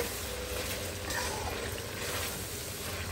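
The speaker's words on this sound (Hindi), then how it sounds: "अब हम दही के साथ इसको अच्छी तरह से भून लेते हैं" Chicken pieces frying with yogurt in a karahi, a steady low sizzle with faint stirring running evenly and close throughout, with no voices.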